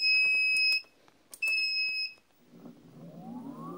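Shrill electronic beeps from an electric unicycle, two sustained tones separated by a short gap, close by, followed by a faint rising whir as the wheel motor spins up.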